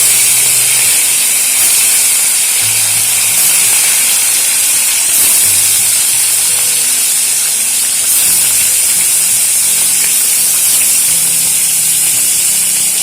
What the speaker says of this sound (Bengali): এবারে এর মধ্যে একে একে মাছগুলো দিয়ে ভেজে নেব